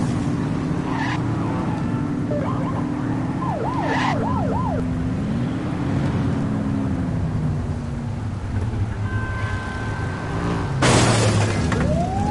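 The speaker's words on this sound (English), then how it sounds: "You're only meant to use the siren in emergencies." Police car siren in the video game The Precinct wails and yelps steadily over continuous engine and road noise, with a sharp crash-like burst near the end.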